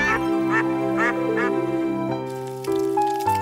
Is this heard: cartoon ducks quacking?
yes